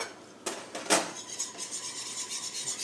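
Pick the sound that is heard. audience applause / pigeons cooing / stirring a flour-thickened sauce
stirring a flour-thickened sauce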